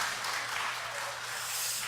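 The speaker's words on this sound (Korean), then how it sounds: "다 같이 박수로 우리 감사하겠습니다" Congregation applause during a Wednesday evening church service, a steady wash of clapping that stays fairly quiet and even for the full two seconds, with a low hum beneath.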